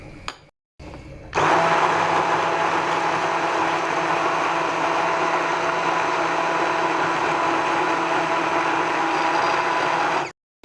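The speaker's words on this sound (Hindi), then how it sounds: "मैं इसको ब्लेंडर की मदद से मिक्स करके आपके सामने दोबारा आती हूँ" Kitchen blender whirring steadily as it purees a green sweet-and-sour chutney, loud and close for about nine seconds after a brief start, then cutting off abruptly.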